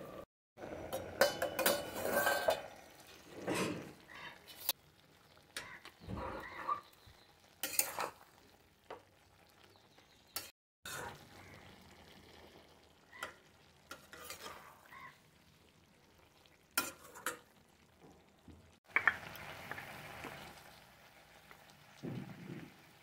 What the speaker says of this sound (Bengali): এটার মধ্যে জল দেবো না, এমনি ঢাকা দিয়ে দিয়ে রান্না করব।